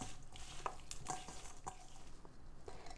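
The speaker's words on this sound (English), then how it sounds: "We're going to mix everything well and this will be ready to eat." Chicken choila is mixed by hand in a bowl, giving soft, faint squelching and patting with a few light clicks against the bowl, steady and close by, with no talk.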